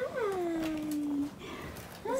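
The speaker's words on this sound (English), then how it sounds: "This is the room for all of her little foster kittens." A small foster kitten gives a clear, falling meow up close, then a second one starts, faint, against a quiet room.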